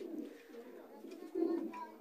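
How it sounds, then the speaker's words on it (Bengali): Pigeons in a loft housing many local and foreign breeds, including Lahori Shirazi and beauty types, cooing in soft low murmurs close by, with one fuller coo near the middle. "ওনার লফটে আপনার দেশি বিদেশি অনেক প্রজাতির কবুতর আছে"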